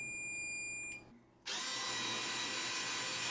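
A power drill bores into a bathroom wall for anchors, whirring with a high tone, stopping briefly, then restarting as a louder, rougher grinding drill sound, close by with no speech.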